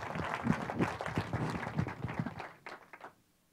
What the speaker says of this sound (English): Everybody give Lee a round of applause as she joins me.